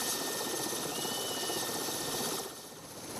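A steady, droning helicopter engine hums throughout, moderately loud, then eases a little toward the end, flying over Arctic tundra.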